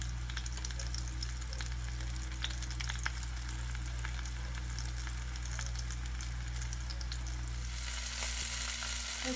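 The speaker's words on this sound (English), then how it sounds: "I've pan fried them." Chicken cordon bleu pan frying, giving a steady close sizzle and crackle, with a low hum underneath. It carries on without a break and brightens slightly near the end.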